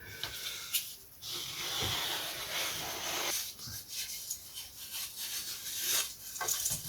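A vintage Lunak aerobatic glider part is worked against a sanding jig, giving quiet, steady rasping strokes of abrasive on wood with short pauses between passes.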